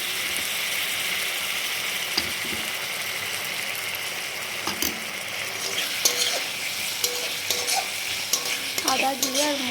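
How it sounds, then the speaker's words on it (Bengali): Ginger, cumin and fennel paste sizzles and fries steadily with onions in a hot pan, a loud continuous crackle with occasional stirring scrapes. "এখন আমি আদা জিরে বাটার পেস্টটা দিয়ে দিচ্ছি"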